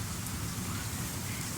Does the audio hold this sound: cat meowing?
no